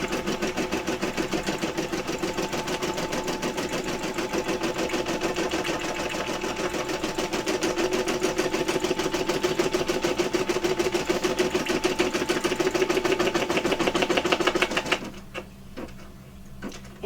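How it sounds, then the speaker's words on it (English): An in-the-hoop embroidery machine runs a placement stitch on a butterfly bow, a fast, steady mechanical rattle of needle strokes that stops abruptly near the end. "we're going to run our placement stitch"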